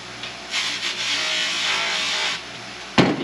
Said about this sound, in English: I use a wire brush.